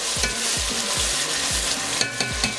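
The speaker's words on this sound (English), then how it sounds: "Let me fry it." Nigerian efo riro vegetable soup frying in a pot, a loud continuous sizzle with regular low scraping strokes of a spoon stirring about twice a second, no voices.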